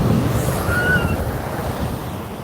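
Big ocean waves on the Konkan coast roar and wash in a loud, rushing surge, with wind buffeting the microphone.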